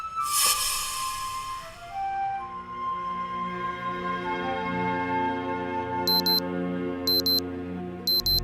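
An alarm clock goes off in a quiet indoor scene from a Hindi TV crime drama, giving three short, sharp beeping bursts about a second apart over a soft, sustained musical background.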